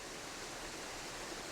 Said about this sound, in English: this waterfall was flowing like this